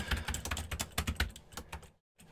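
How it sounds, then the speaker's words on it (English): Keystrokes on a computer keyboard as a command is typed into a Postgres database prompt, a quick irregular run of close, crisp clicks lasting about two seconds, alone without talk, ending abruptly in silence. "If I can type create right the first time."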